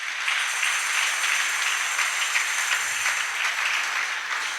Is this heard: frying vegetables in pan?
no